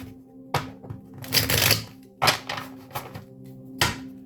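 Several crisp riffling bursts of a deck of cards being shuffled, close up, with short pauses between them.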